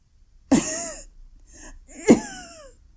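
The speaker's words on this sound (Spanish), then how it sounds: "Un violento ataque de tos le impidió continuar." Two harsh, forceful coughs about a second and a half apart, close and loud, with a faint rasping breath between them.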